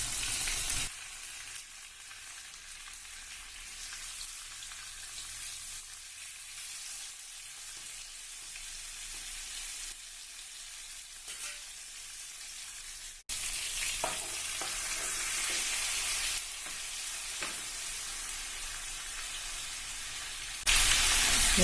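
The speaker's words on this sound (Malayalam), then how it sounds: "ഇതുപോലെ മീൻ പൊരിച്ചെടുക്കാം" Fish frying in hot oil Kerala style with curry leaves, a continuous hissing sizzle that grows brighter and louder partway through, with faint stirring touches and no talk.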